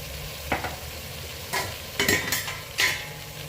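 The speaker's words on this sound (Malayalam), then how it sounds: "ഇത് നല്ലതുപോലെ വഴറ്റാം." A spoon stirs turmeric and Kashmiri chili powder in a chicken curry pan, with several distinct scraping strokes over a low sizzle, close and clear, no speech.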